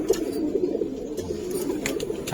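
Pigeons flutter and coo softly close by, with a low murmuring coo and brief wing rustles over a dim background.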